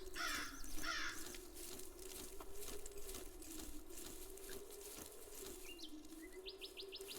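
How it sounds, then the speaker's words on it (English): Crows cawing in the survival shooter game Zero Sievert, a steady outdoor ambience with faint scattered calls and patter, the bird sounds soft and partly masked by constant background noise. "Okay, so there's crows."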